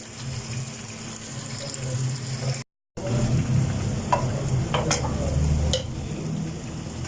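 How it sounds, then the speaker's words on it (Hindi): Chicken sizzles and spatters steadily in a hot pan, with a brief silent gap and occasional stirring scrapes, no talking. "और इसे हम थोड़ी देर के लिए भूनते हैं।"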